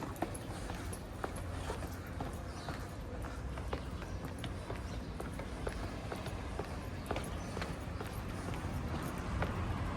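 Horse hooves clip-clop faintly on a street in Valletta, Malta, a light irregular tapping of steps set in a steady background hum of the town.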